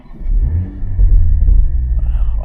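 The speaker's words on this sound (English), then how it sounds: "Now start the car up." A 2024 Toyota GR Supra A91 with a manual gearbox, 390 hp, starts up: a deep engine rumble swells near the microphone and settles into a throaty idle with small revs. Nobody speaks.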